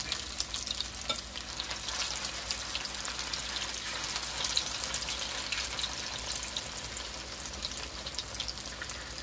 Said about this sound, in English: I'm just about done frying.